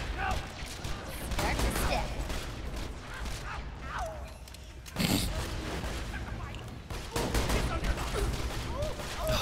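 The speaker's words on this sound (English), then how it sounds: "they're shooting rockets out of the pistol and it sucks" A Torgue pistol in Borderlands 2 fires rockets in bursts of loud blasts with mechanical clatter. Sustained thumping stretches cut off with brief breaks, all under ongoing game noise.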